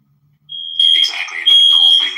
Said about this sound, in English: Shit, smoke detector.